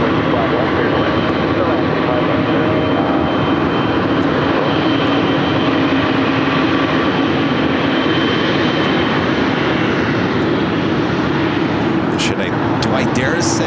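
A Boeing 777 freighter landing on runway 25 left at LAX gives a loud, continuous jet roar that fills the whole clip, with faint voices underneath.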